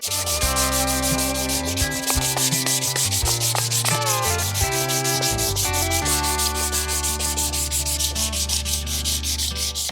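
Sandpaper of 600 grit is worked over an aluminum top-end engine part from a 1275 Harley, giving a steady, continuous rubbing that runs without pause under loud background music.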